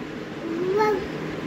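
A voice softly imitates a cat's meow with one short, rising-and-falling mew over a quiet background.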